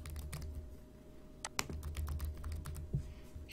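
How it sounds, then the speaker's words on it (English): Typing on a computer keyboard while entering numbers into a Java program, with irregular bursts of quick, close key clicks and a few heavier keystrokes over quiet room tone. "Okay, so I'm just typing some random numbers in there."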